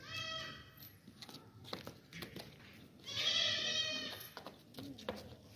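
A goat bleats near the listener in two wavering calls, one short and one longer and louder, over footsteps and rustling in a livestock market.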